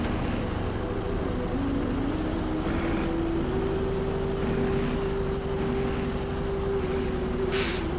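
A heavy truck's engine in SnowRunner rises steadily under throttle, its low drone climbing in pitch across the stretch while struggling to move, with a sharp hiss of air release at the very end.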